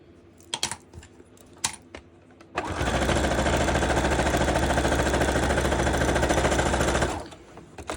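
A sewing machine stitches a seam straight down the middle, running loud and close with a steady rapid hum for about four and a half seconds, after a few light clicks and taps.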